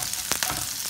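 Chopped garlic hits hot oil in a pan and gives a brief, close, steady sizzling hiss with a couple of soft crackles, and no one speaks.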